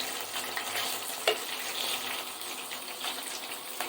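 Bay leaf, dried red chili, cardamom, cloves and cinnamon frying in hot oil in a home kitchen, a steady bright sizzle with faint crackles and a brief stir, no talking.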